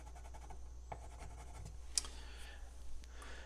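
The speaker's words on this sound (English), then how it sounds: "I can come in here with my pencil and draw my line this way and this way." Faint scratching and light clicks of a pencil marking a line for hanging cabinets on a French cleat, a few short strokes over a low background hum.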